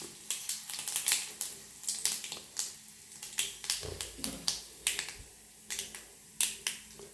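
Mustard seeds and urad dal spluttering in hot oil for a tempering with a little dried chilli, sharp crackling pops bursting in irregular quick clusters, close and fairly faint.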